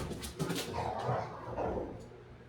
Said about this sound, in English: If you hear noises, it's because my dogs are playing.